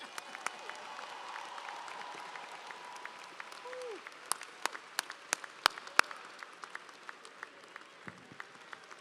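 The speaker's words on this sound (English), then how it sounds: "Please give her another round of applause." Audience applause for Senator Lucas at a university spring commencement ceremony, a steady wash of clapping from a large crowd with a few sharper claps standing out near the end.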